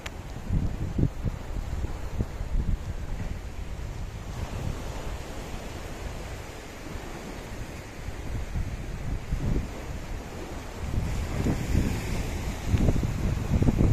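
Water and surf wash around Mousuni Island in a steady broadband roar mixed with gusting wind noise, swelling louder toward the end, with no voices.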